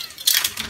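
Small plastic parts from a 1965 Matchbox Lesney Land Rover Safari model clatter into a bowl of washing-up liquid, a brief close cluster of light clicks and rattles.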